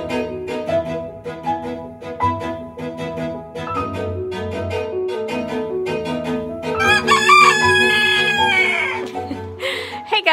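A rooster crows loudly and close outdoors at dusk, rising over a steady backdrop of bantam chickens clucking and other fowl calls.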